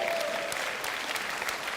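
A conference audience at a Blender Conference keynote breaks into loud, dense applause with a few cheers, a continuous close clatter of clapping filling the hall.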